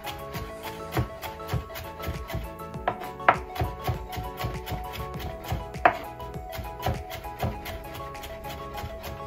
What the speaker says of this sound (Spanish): Picando así, vamos a hacer lo mismo con el chilito rojo y con la cebolla.